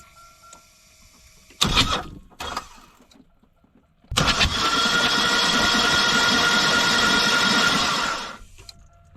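A Buick engine fitted with brand-new spark plugs after a suspected hydrolock cranks in two short bursts, then catches and runs steadily and loudly for about four seconds before cutting off.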